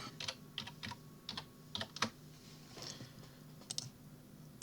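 Quiet, close keystrokes clatter on a computer keyboard in short irregular bursts as text is typed in Inkscape, with brief pauses between clusters and no talking.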